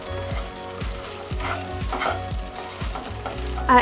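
Steamed idli pieces tossed in a masala in a pan, with a regular series of scraping stirs over a constant, close-up sizzle, about eight strokes in a steady rhythm with no talk.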